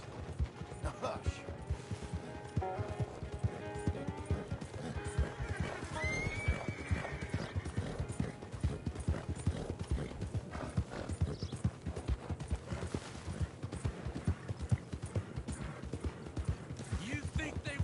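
A horse walks in a western video game set in 1899, its hooves clip-clopping in a steady, close rhythm throughout, with a neigh and creaking tack, under talking voices.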